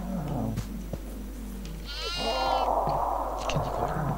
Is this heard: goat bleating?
yes